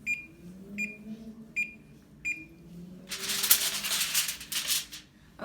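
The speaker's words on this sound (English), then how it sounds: "Okay, the timer went off." A kitchen oven timer rings in four short, bright beeps evenly spaced about a second apart, then gives way to a louder burst of broadband clatter and rustling near the microphone, with no speech.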